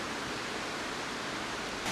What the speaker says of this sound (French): d'où on entend au loin les cascades du parc Vuillier